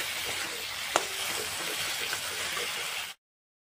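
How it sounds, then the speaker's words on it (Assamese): Salt and spices fry in a pan for egg bhurji curry, giving a soft, continuous sizzle with a single sharp clink of a spatula. The sizzle stops abruptly at the end. "নিমখখিনি দি মছলাখিনি ভালদৰে অলপ টাইম ভাজি ল'ম।"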